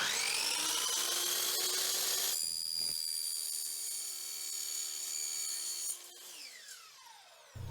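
A power saw cuts a thin wooden molding board wrapped in masking tape and laid over stability boards, a loud steady whine for about six seconds that then winds down as the blade slows.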